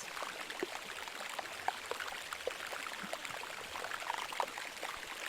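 Air bubbles escaping from melting glacial ice, a continuous faint crackling fizz with scattered tiny pops and clicks, like a sizzle or babbling trickle, with no voices.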